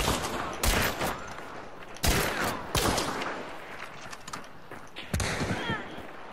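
Rapid bursts of gunfire in a shooter video game, several loud clusters of shots spread across the few seconds, with rattling echoes between them and no talking.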